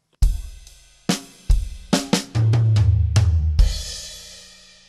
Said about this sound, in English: We split our hands between the snare drum, tom-tom, and floor tom-tom